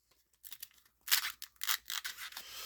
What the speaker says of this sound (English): Sound of vinyl crack-a-whacking